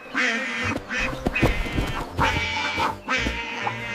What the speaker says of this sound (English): Mama Duck said, "Quack,